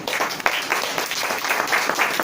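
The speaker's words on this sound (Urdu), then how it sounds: "اس لیے بہنوں کے لیے زوردار تالی" Audience applause at a sermon-style gathering, a dense, steady wash of many hands clapping together from start to finish, loud and close with no talk over it.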